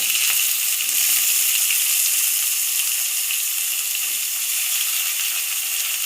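Onions sauté in hot oil for a pepper chicken curry, a loud, dense, unbroken sizzle with a faint bubbling underneath, steady from start to finish and not overlaid by any talking.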